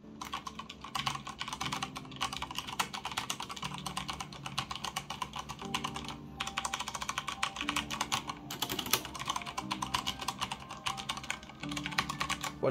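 Continuous close typing on a Corsair Strafe RGB mechanical keyboard with tactile Cherry MX Brown switches, fast rattling keystrokes in steady bursts with occasional brief pauses.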